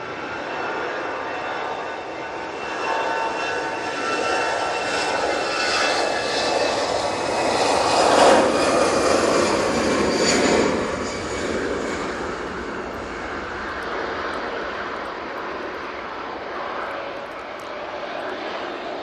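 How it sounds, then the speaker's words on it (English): An EasyJet airliner departs into a strong wind, its jet engines swelling into a louder roar midway before easing off to a steady, fading rumble. "Nice and early there from that EasyJet. Having to fight that wind there on departure."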